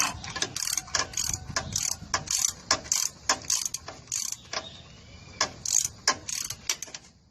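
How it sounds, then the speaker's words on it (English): Ratchet wrench with a short extension and 14mm six-point socket working a lower starter motor bolt on a Nissan engine, giving repeated bursts of close, crisp clicking in an uneven rhythm with brief pauses between strokes. "we're going to use our short extension with a 14mm socket"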